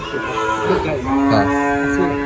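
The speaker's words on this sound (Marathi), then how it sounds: "अशी सुद्धा गाय आहे" A cow at a cow shelter in Goa moos loudly and close by, one long, drawn-out low call with a steady tone, with no voices around it.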